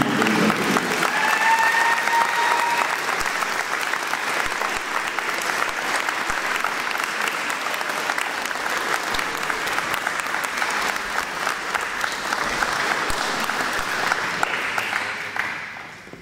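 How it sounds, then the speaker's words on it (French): Sustained applause from a crowd gathered for a Stolperstein memorial ceremony in Balbronn, honoring the students who took part; steady dense clapping runs for about sixteen seconds before tapering off at the end, with a voice briefly audible early on. "une partie de ces applaudissements peuvent aller aussi aller à leur professeur, M. Elfer"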